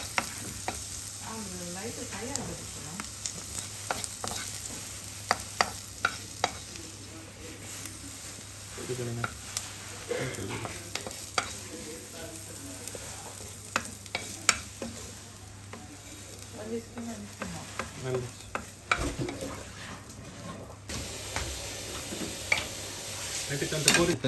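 Masala frying in a pan gives a continuous sizzle, broken by frequent spatula scrapes and metallic clinks against the pan, while voices talk now and then in the background.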